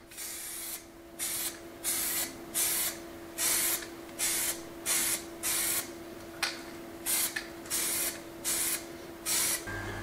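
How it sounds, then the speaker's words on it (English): Spray gun painting door fittings in pairs outdoors at a stone farmhouse restoration: a rhythmic series of about fifteen short hissing bursts, evenly spaced with brief gaps, close and fairly loud over a faint steady hum. "I'm going to spray them in pairs with the joints just opened a little bit"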